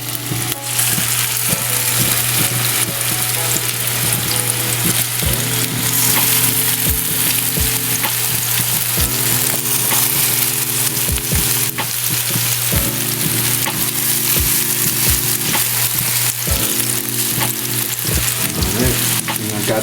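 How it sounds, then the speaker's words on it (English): Meatballs frying in a cast iron skillet, a loud continuous sizzle with a steady hum underneath and occasional soft taps as pieces are set down. "I'm gonna head and start placing down my meatballs one at a time."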